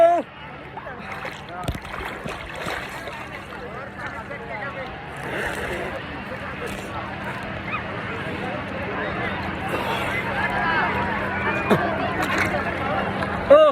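Big sea waves break at Cox's Bazar beach in a steady, loud wash of surf that lasts throughout, with faint voices now and then in the background.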